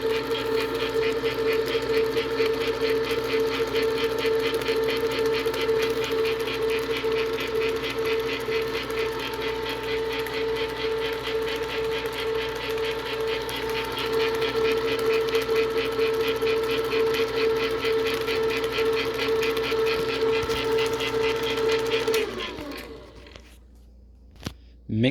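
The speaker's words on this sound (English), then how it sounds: "add your whipped cream into the rest of this, and then mix on medium speed" An electric hand mixer runs steadily on medium speed, whipping whipped cream into pudding for dirt pudding, a continuous loud whirring drone that holds for about twenty-two seconds before cutting off.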